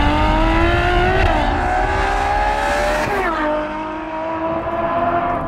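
A Ferrari F12 TDF engine revving hard, a loud sustained howl with rising and falling harmonic tones, a sharp pitch shift near the middle, then a steady high drone, close and filling the sound.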